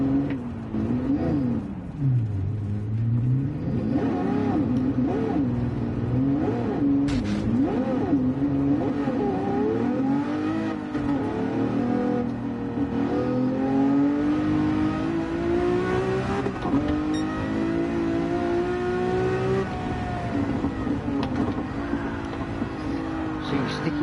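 A 1961 Ferrari 250 GT engine revs while driving, its loud, steady drone rising and falling through gears with pitch sweeps, close and continuous, with someone talking briefly over it.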